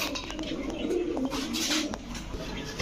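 Pigeons at a pigeon market selling racing birds coo in low, throaty rolls, fairly close and continuous, with faint market bustle behind and no clear talk.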